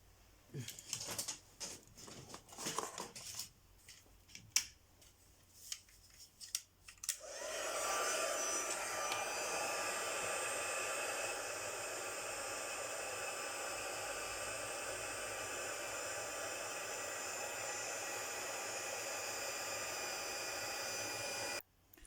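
A heat tool for embossing on a decorated envelope blows with a steady, loud hissing whoosh that starts abruptly after some light handling noises and holds constant to the end.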